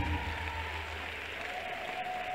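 A church congregation claps steadily through a preaching service, a continuous even patter of many hands over a low sustained hum.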